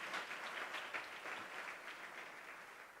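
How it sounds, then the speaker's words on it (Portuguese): A church congregation applauding during a sermon, a soft, distant spread of clapping hands that stays fairly even throughout, heard faintly with no talking over it. "Você pode aplaudir ao Senhor?"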